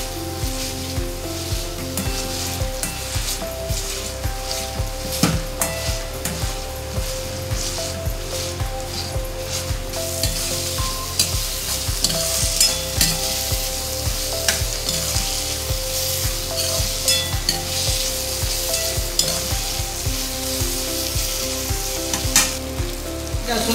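Garlic and beetroot paste for pav bhaji is sautéed in a pan, giving a loud, steady sizzle with constant frying crackle and stirring scrapes throughout, close up and without talk.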